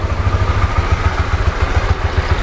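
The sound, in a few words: Honda CB150X motorcycle engine idling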